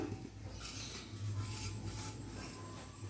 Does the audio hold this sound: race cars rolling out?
no